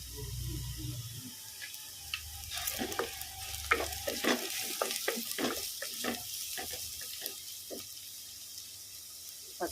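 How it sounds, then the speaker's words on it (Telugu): Turmeric being stirred into amaranth-leaf and potato curry frying in oil: scattered scraping clicks of a spoon against the pan over a soft, steady sizzle, with no talking. "నూనెలో ఉడకాలి కొంచెం నేను పసుపు వేసుకుంటున్నాను"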